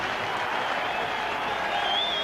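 Rugby league stadium crowd in a Regal Trophy semi-final applauding and cheering as Warrington come out in green and white against Widnes, a steady loud roar of clapping and voices with a thin whistle rising near the end.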